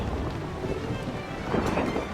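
A heavy thunderstorm with steady rain hisses in a dense, unbroken wash, with a low rumble of thunder rolling beneath it and no voices.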